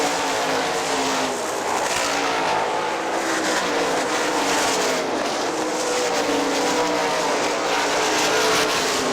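Sprint cars race flat out on a dirt speedway at Hartford Speedway Park. Their engines make a loud, continuous roar that swells and fades as the cars circle the track. Sustained, dense engine noise fills the whole stretch.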